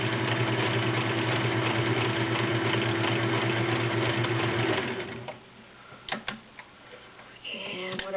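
A vintage Kenmore 1774 sewing machine stitching a pine leaf pattern runs with a loud, steady mechanical whir and rapid needle ticking, then stops, followed by a few clicks and handling knocks before the motor starts again briefly.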